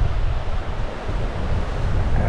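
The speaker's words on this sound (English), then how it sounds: "There's a rather pretty waterfall" Waterfall outdoors on a breezy hillside, a steady broadband rushing of falling water mixed with wind noise, continuous and moderately loud with no voices.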